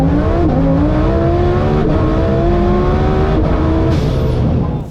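A Lamborghini's engine, heard onboard: a loud, continuous roar climbing in pitch through repeated gear changes under hard acceleration.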